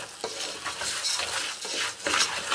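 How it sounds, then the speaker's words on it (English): Rice being stirred into hot oil in a cooking pot for pilau, a close, steady scraping and sizzling with repeated spoon strokes against the pot and no voices. "So you just stir in your rice"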